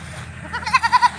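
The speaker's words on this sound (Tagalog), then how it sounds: "pakain ko na yung kambing mga tol" A goat bleats at feeding time, giving a quick series of four or five short, close, wavering cries after a moment of quieter rustling.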